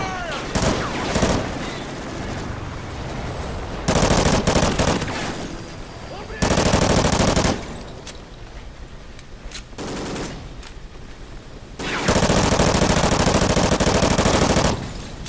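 Automatic weapons fire in the Call of Duty Ghosts video game, loud, close bursts repeating in several long volleys with shorter gaps of scattered shots and battle noise between them.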